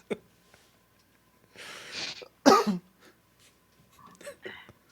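A few harsh, breathy coughs burst out close by, one sharp and loud in the middle, with quieter throat noises around them.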